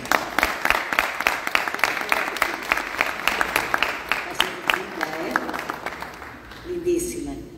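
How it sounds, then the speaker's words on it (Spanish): A room of people claps steadily and fairly loudly for about six seconds, a dense, even patter of hands that thins out before a voice begins at the close. "que aplaudamos a la democracia y que no nos falte nunca más"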